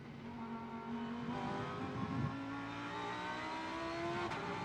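A GT race car on the Macau street circuit, its engine droning steadily at a held pitch as the driver feathers the throttle, with the tone shifting slightly midway; a continuous, fairly distant-sounding engine note.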